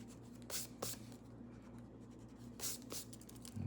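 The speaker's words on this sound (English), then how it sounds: "erase these guidelines." A pencil eraser scrubs across paper to remove sketch guidelines: a few quick, close rubbing strokes in two short clusters, quiet and otherwise alone.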